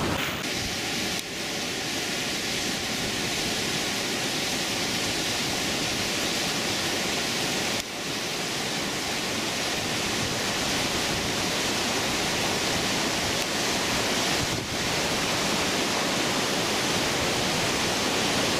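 Flood water rushes through Taunsa Barrage on the Indus, a loud, steady, broadband roar of churning torrent that continues unbroken from start to finish.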